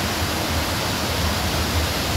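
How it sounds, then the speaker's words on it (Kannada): Powerful falling water thunders continuously nearby, a thick, even roar without pauses or speech. "ನೋಡಿ ಎಷ್ಟು ಚೆನ್ನಾಗಿದೆ ಫಾಲ್ಸು. ಎಷ್ಟು ಫೋರ್ಸ್ ಇದೆ ನೋಡಿ ನೀರು"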